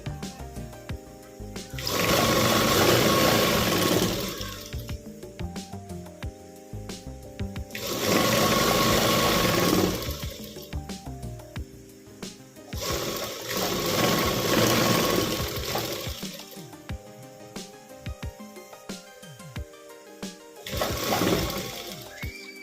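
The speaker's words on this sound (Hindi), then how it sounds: "बिल्कुल इसके बुकरम में हम जड़ में सिलाई लगा देंगे, बुकरम के जड़ में" An electric sewing machine stitches cloth onto buckram for a salwar belt in four separate whirring bursts of a few seconds each, with quiet handling noises in between.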